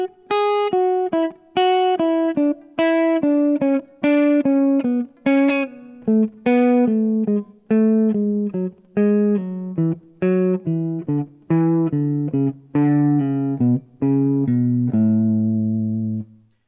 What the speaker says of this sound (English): So that means we're descending the scale, and each individual pattern is going downwards or descending